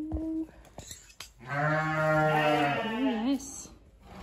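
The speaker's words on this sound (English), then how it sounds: "Yes, that's a good guard sheep." A sheep in a barn lets out a long, loud wavering bleat close by, with a shorter call and brief knocks before it.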